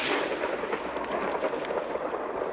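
Thunder in the Minecraft video game: a dense, continuous rumbling roar like a storm, loud and sustained throughout with no clear pauses and no speech.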